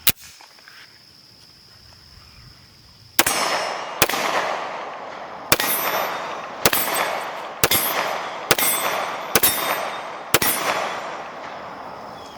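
A Sig P210 Carry 9mm handgun fires about eight sharp, loud shots outdoors at uneven intervals, each crack followed by a short echoing tail.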